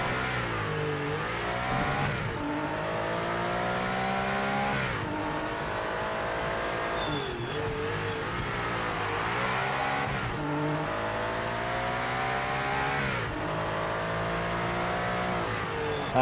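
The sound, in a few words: race car engine in Project Motor Racing video game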